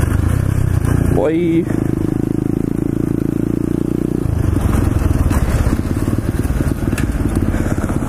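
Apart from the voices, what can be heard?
pit bike engine running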